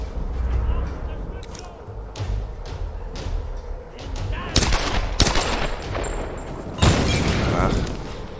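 Gunfire erupts in the Tomb Raider video game, with bursts of loud sharp shots and booming impacts, including a heavy blast near the end, over rumbling ambience as someone talks.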